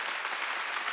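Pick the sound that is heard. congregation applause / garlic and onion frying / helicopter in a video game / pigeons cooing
congregation applause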